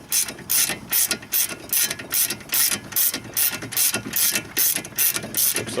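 A hand ratchet clicks in quick, regular bursts while a brake caliper bolt is loosened on a BMW E36 3 Series during a front pad and rotor job, each stroke a close, sharp metallic rattle with brief pauses between.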